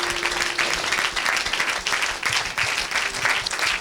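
A church congregation applauds in a dense, sustained burst of clapping that holds steady throughout.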